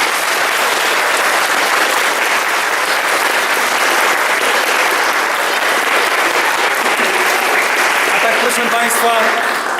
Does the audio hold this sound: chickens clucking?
no